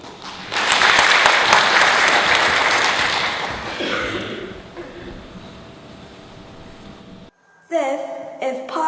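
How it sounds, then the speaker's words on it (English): A TEDx audience at Branksome Hall Asia in 2017 bursts into loud, full applause that holds for a few seconds and gradually dies away. After a short silence, a musical performance with singing begins. "Please welcome them with a round of applause."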